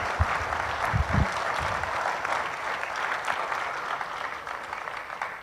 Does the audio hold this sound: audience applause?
yes